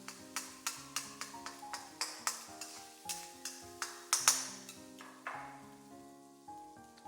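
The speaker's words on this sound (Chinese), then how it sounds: "把剁好的肉末也加進去，快速的翻炒，炒香、炒散、炒變色" Minced meat is stir-fried with ginger and garlic in hot oil in a wok. A spatula clacks and scrapes in a quick, regular rhythm over a soft, steady sizzle, close and alone.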